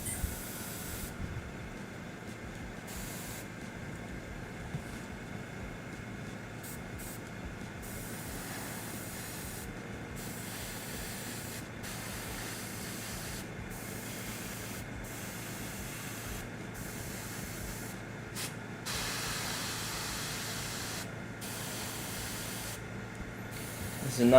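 An airbrush sprays red ink onto a Warhammer miniature, giving a steady, soft hiss that runs almost unbroken for about twenty-four seconds, close by at an even level with brief gaps and faint background rumble.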